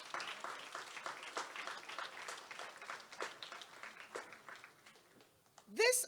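Applause from a school audience at a kick-off event, fairly soft and scattered in a room, tapering off before a brief voice cuts in at the end.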